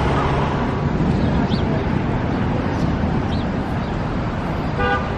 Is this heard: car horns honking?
yes